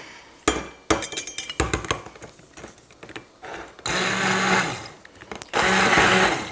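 Immersion blender whirring loudly in a jar of homemade mayonnaise, with a few clinks and bumps at first before steady bursts of motor noise take over near the end.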